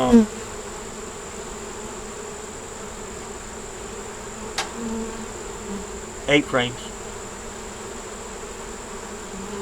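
Bees buzz around a hive during an inspection, a steady close droning that runs throughout, broken by a few brief knocks or handling noises near the middle.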